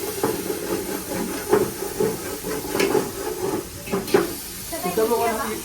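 Ingredients for mutton biryani fry in hot oil with a steady hiss and sizzle, punctuated by a few soft utensil knocks, while a person talks over it.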